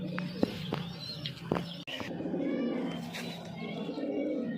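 Giribaz pigeons coo in a loft, with low, soft, repeated cooing close by, a few sharp clicks and rustles, and bright chirps later, all with no speech.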